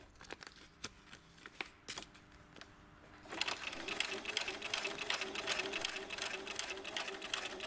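A sewing machine stitches a clear vinyl pouch, starting after a few scattered clicks and then running steadily and close by for the rest of the clip.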